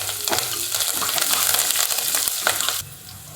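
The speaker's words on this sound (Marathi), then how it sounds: "चांगलं परतला आता कांदा" Chopped onion, garlic and curry leaves frying in hot oil for misal, a steady close sizzle with a few stirring scrapes, the crackle dropping away abruptly near the end.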